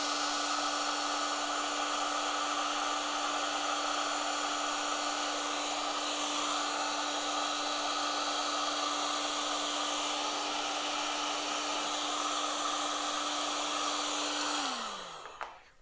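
A heat gun runs steadily for about fifteen seconds, warming parts inside a Haslab Ghostbusters Proton Pack; a loud continuous blowing whine with a fixed hum holds throughout, then drops in pitch and cuts off at the end.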